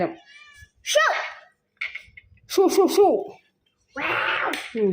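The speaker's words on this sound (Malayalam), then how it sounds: "വാതില് കുറ്റിയിടല്ലെങ്കിൽ പൂച്ചകളും ഉണ്ടാവും" Several cat meows in a home setting where a mother cat has four kittens, repeated bursts of rising and falling cries close by, with short gaps between them and some quieter sounds.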